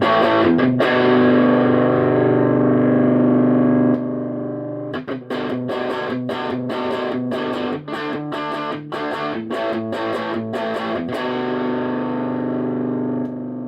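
A cranked Supro Amulet 1x12 tube amp at 15 watts with no effects plays heavily distorted electric guitar, first a long sustained chord, then a run of choppy, rhythmic palm-muted stabs, loud and close.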